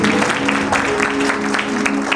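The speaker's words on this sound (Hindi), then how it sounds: "आए इन सब के लिए एक बार ताली बजा देंगे" An audience at a church gathering claps together in a steady, loud wash of applause, with a sustained musical tone underneath.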